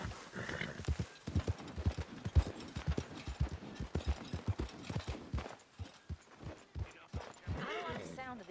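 Horse hooves clip-clopping in Red Dead Redemption 2, a steady rhythmic run of hoofbeats close by, with people talking over it and a brief whinny near the end.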